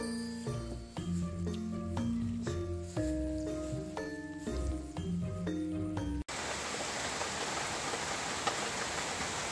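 Rain falls outdoors in a garden during an eel-fishing outing: a steady, loud broadband hiss fills the last few seconds, right after a tonal musical passage, with no voices.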